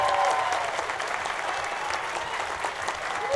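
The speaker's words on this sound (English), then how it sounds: "save your applause" Steady applause from a crowd, many hands clapping at once in a continuous dense patter, moderately loud throughout.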